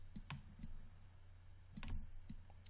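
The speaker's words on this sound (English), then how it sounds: "So we're going to right click at a vertex" Right-clicks of a computer mouse during 3D modeling work in Maya 2016, several short sharp clicks spaced irregularly over a low steady hum, close and fairly quiet with no talking.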